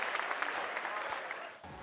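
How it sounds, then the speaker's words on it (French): An audience claps for the debating teams at the end of a televised student debate between CESTI and ENSETP. The applause is fairly quiet and continuous, then thins and fades near the end. "de se congratuler sous les applaudissements du public"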